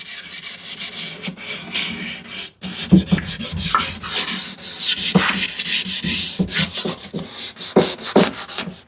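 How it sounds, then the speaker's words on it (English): Hand sanding on a wooden tambour rail for a shoe tidy, close rhythmic rasping strokes in quick uneven bursts with short pauses between them. "it's a little bit hard to like sand this the tambour rail"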